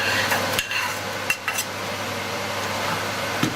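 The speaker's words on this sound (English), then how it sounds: "We're going to give that a nice stir." Shrimp (gambas) and hot chili peppers are stirred in a pan with a steady scraping and sizzling, with a few sharper utensil knocks against the pan.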